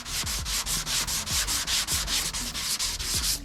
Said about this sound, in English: That's how you sand down your curved panels with the DuraBlock